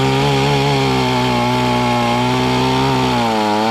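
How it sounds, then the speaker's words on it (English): A chainsaw cuts firewood up close, its engine holding a loud, steady high whine with strong harmonics that dips slightly in pitch near the end as the chain bites deeper into the wood. "we're going to cut some firewood."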